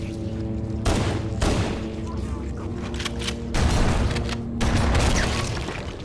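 Shotgun fire from the video game Halo, used against the Flood: a few heavy blasts over a steady game soundtrack bed, with game voices audible in between.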